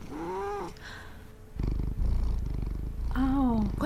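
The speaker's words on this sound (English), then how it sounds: "It was the cat." A cat in the video game Miss Clue, heard as a close, loud yowling meow, then a low rumbling stretch, then another long drawn-out meow, with no talking.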